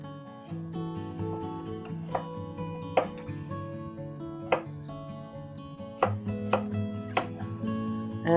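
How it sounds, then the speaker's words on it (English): Knife chopping food into big chunks for a Texas cowboy stew, a few scattered sharp chops over steady background music. "We're just going to chop it in big chunks."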